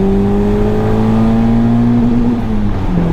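Peugeot 106 XSI petrol engine revving up toward 7000 rpm, a loud close-up whine that climbs steadily in pitch then eases slightly, with no talk.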